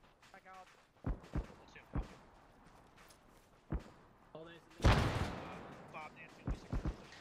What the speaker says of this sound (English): Frag landed straight on his head.